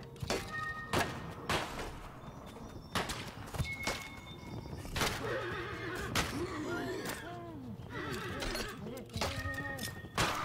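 A video game horse in a western setting whinnies repeatedly with warbling, high calls among thuds and hoof knocks, fairly close and loud.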